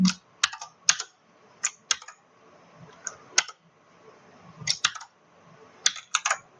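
Fingers tap out a multi-line code comment on a computer keyboard, sharp close keystrokes arriving in small irregular bursts with short pauses between them.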